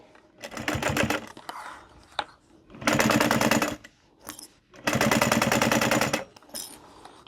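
A sewing machine stitches along the edge of a fabric lanyard in three loud, rapid mechanical bursts separated by short pauses with faint handling clicks between runs.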